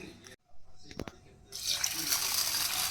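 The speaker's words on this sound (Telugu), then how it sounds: "ఇప్పుడు ఇట్లా వాటర్ పోసుకొని ఒక వన్ టైం టూ టైమ్స్ అట్లా వాష్ చేసుకొని" A few clinks and knocks, then water pours steadily into a vessel of soaked lentils being rinsed, splashing and sloshing loudly close by.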